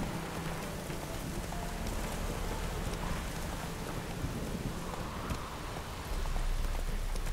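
Horse hooves clip-clop steadily through heavy rain in The Witcher 3, the galloping and downpour blending into a dense, continuous wash with a faint rumble underneath.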